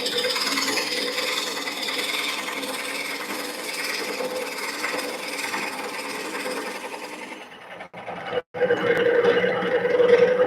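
A drill bit bores into wood while a bowl is being made, giving a steady, continuous grinding rasp that runs for about seven seconds, breaks off briefly, then starts up again, close and fairly loud.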